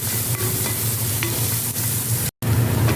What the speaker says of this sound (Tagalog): Kasi pag nagigisa ako, talagang inuuna ko ang sibuyas.